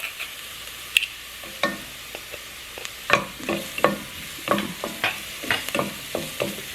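Chopped garlic sizzles and fries with softened onion in a pan, with a steady frying hiss broken by repeated close scraping and stirring strokes, no voices.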